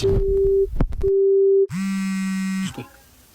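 A telephone line tone: short beeps, then a steady tone, then a harsher buzzing tone for about a second before cutting off. No voices.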